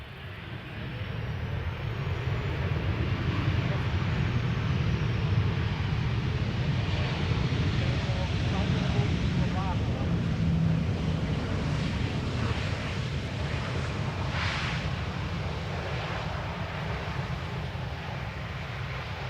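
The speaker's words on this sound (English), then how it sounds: "This is KLM flight 1930, 737-700 arriving from Geneva." A KLM Boeing 737-700 arriving from Geneva at Amsterdam Schiphol, its broad steady jet roar rumbling low and constant throughout, heard from a distance with a faint rising whine high above.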